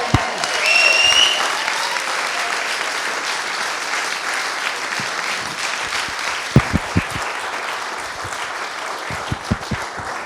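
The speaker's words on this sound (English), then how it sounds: "everyone, a massive round of applause for Dylan" A wedding crowd gives Dylan a big round of applause, dense sustained clapping filling the room for about ten seconds, with a few sharper nearby claps and thumps standing out near the end.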